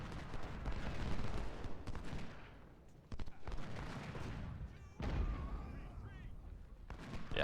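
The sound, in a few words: musket gunfire in a Civil War video game battle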